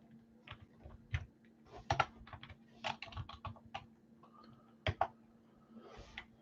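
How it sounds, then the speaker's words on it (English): Irregular bursts of clacking keystrokes from a computer keyboard, close and fairly quiet, with short pauses between flurries and a low steady hum underneath. "What am I typing?"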